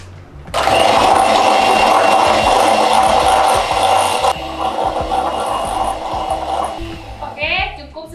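Butter and powdered sugar are mixed for cookie dough with a loud, steady mechanical whirring that starts abruptly, runs for several seconds, eases slightly, then trails off into scraping sounds.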